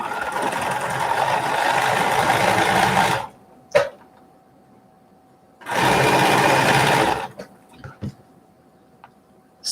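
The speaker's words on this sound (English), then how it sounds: "there are some points here when you're sewing these together that could get bulky under the machine" Sewing machine stitching quilt seams in two loud, steady whirring runs of about three seconds each, separated by quiet gaps with small clicks and handling noises.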